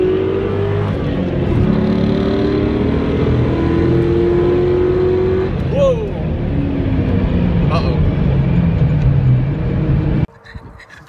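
A car accelerates hard through back-to-back pulls, its engine note rising and falling in long sweeps, loud and close, before cutting off abruptly near the end.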